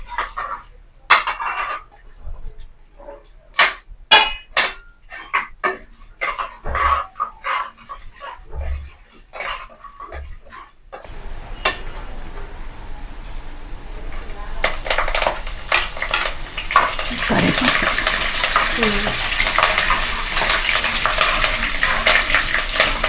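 Oil tempering for mango pulihora crackles and sizzles loudly and steadily once the chana dal goes in, following a stretch of sharp clinks and kitchen handling noises.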